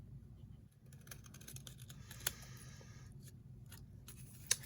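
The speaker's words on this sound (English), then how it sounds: "we are going to cut this out" Scissors snip through a paper template for 3D glasses, giving a few faint, sparse cuts over a quiet background with no talking.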